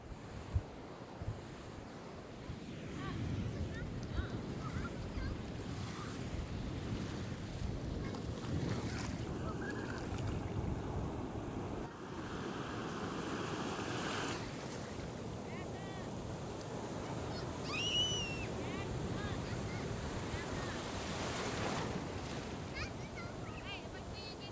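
Ocean waves on a fairly deserted Outer Banks beach, a constant broad wash of surf mixed with heavy wind buffeting the microphone, with faint distant sounds drifting over the steady roar.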